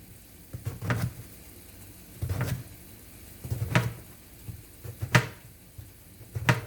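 King oyster mushrooms cut into thick slices, about a third to half an inch: five or six evenly spaced chopping strokes, each a short crisp crunch with a thud on the board, heard close and alone.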